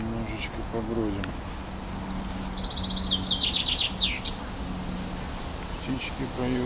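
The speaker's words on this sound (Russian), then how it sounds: "Птички поют." Small birds chirp and sing in a village cemetery, a cluster of bright trills in the middle with quieter calls around it, alongside low murmuring voices and outdoor background noise.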